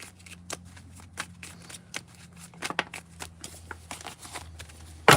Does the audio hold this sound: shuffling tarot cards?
yes